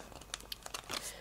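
Origami paper being creased and folded into a carambola flower model, giving soft, close crinkling and rustling bursts over about a second with no talk.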